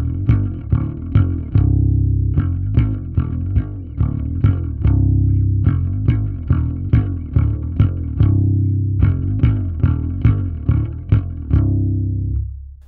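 A song's pre-chorus rings out loud and alone, with fast palm-muted picking on guitar in tight, evenly spaced chugs over a bass line that slides between notes.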